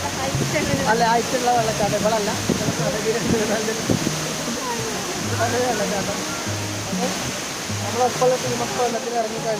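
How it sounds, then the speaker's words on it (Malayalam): Steady rushing water of a waterfall in Wayanad, Kerala, heard under music with singing throughout. "മനോഹരമായ വെള്ളച്ചാട്ടം"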